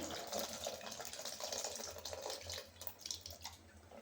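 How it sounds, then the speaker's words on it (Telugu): Soaked tamarind is squeezed by hand in a bowl of water, giving faint, close squelching and dripping sounds in a quiet kitchen. "చింతపండు నానబెట్టుకున్నాను, ఇప్పుడు పిసుక్కుంటున్నాను."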